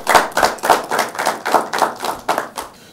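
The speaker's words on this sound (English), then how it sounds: "Please, a round of applause for him." Spectators at a university law challenge competition clap in a slow, even rhythm of about ten distinct, close claps that taper off at the end, with no talking over them.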